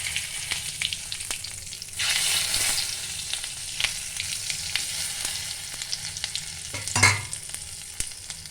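Bay leaf and cumin seeds sizzle steadily in hot butter with dried chilli for dhaba-style chicken, the frying hiss swelling sharply when they hit the pan and flaring again briefly near the end.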